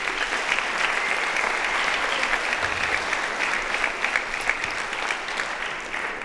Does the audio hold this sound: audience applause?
yes